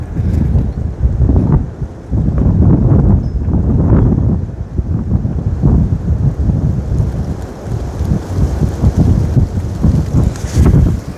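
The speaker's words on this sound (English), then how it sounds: "It's just too much wind. Way too much wind." Strong, gusting wind buffets the microphone outdoors during air-rifle target shooting with a .22 H&N Hornet pellet gun, a loud continuous low roar with surges, no talking.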